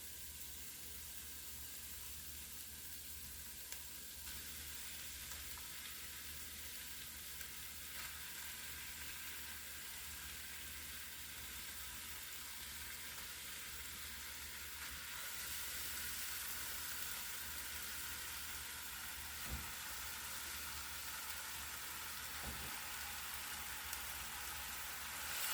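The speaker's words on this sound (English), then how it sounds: "So now I'm going to put my cooked black beans in here" Cooked black beans sizzle in a soup pot, a steady, even crackling fry hiss that holds unbroken for the whole stretch, soft and close with no voices.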